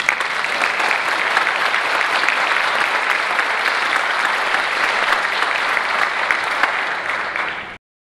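A conference audience applauds to welcome a speaker: dense, steady, loud clapping from a large crowd lasting about eight seconds before cutting off abruptly, with no talking.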